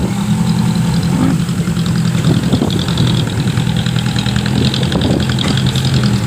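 A large bulldozer diesel engine idles with a steady, heavy low rumble and rattling knock, loud and continuous throughout, at a clay earth-pushing site.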